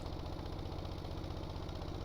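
Barge engines run steadily in the video game Stormworks while a Damen 2111 barge maneuvers, producing a continuous droning rumble with a faint rhythmic knock and no break in level.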